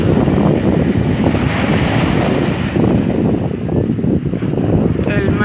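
Surf rolling onto the beach at Cancun, a loud, continuous wash of breaking waves mixed with heavy wind buffeting the microphone.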